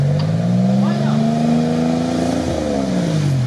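An off-road vehicle's engine drones and revs steadily as it pulls away on a rough trail. The sound stays loud and close throughout with a rising and falling engine pitch.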